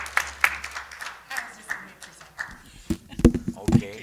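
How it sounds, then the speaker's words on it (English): A council-meeting audience gives a brief scattered round of applause, a few claps standing out at first before fading into a quieter room with speech. "I'd like to give a round of applause to Lisette Gaspi"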